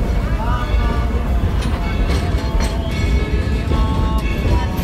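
Dollywood's Engine 70 Cinderella train rolls out of town with a steady, close rumble and clatter, as people talk over the moving train.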